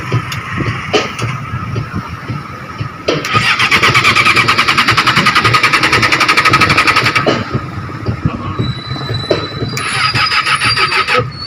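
Yamaha R6 sport motorcycle engine revving loudly and close, a sustained high-pitched roar building around the middle with rapid firing pulses, then easing back to a rough idle before rising again, with a faint metallic whine over the top.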